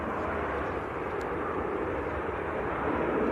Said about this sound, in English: Emirates is starting to taxi.